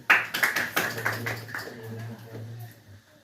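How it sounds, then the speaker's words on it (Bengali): Students in a classroom quiz burst into a short round of hand clapping, several quick sharp claps that thin out and fade over a few seconds, with faint low background noise. "ওই জন্য একটা হাত তালি।"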